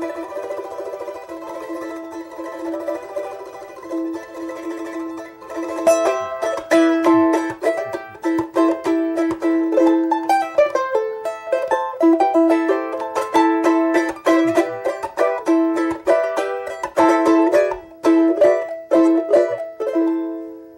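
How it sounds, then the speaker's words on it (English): Bright plucked charango strings start softly, then break into fast, dense strumming that rings steadily and fairly loud, with no voices. "That's the sound of charango."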